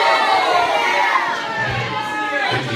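A noisy crowd fills the air with steady chatter and children shouting and cheering in the background, a continuous dense babble with no single voice standing out.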